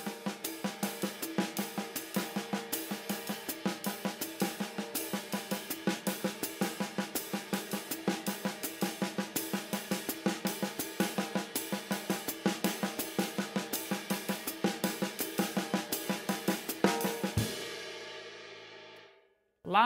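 A drum kit plays a steady repeating figure of eighth-note triplets, evenly spaced hits running continuously and fairly quietly, then stopping with a final crash ring-out and a brief cutoff.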